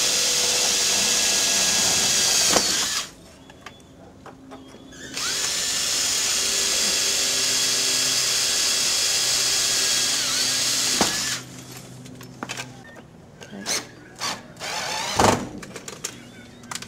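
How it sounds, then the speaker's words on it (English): A power drill drives screws through a door hinge during a door installation, with two long, loud whirring runs separated by a pause, then short bursts and knocks of handling, with no talking. "just drill them in the centre of the hole"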